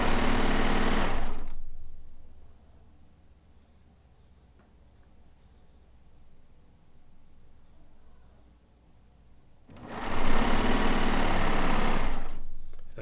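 A sewing machine stitches Kaffe layer-cake quilt blocks with Madeira thread at stitch length 3. Two loud, steady whirring runs open and close the stretch, separated by a long, nearly silent pause.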